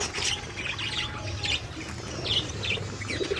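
Baby birds give several high, thin chirps in quick irregular bursts, fairly close, over a low steady background hum.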